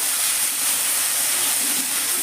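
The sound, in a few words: ginger, cumin, garlic, green chilli paste added to frying onions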